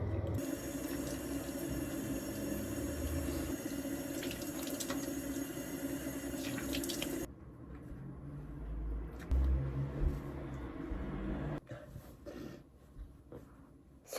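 A bathroom sink tap runs steadily while someone washes her face, a close hissing stream that cuts off midway, then a few quieter splashes and handling noises follow.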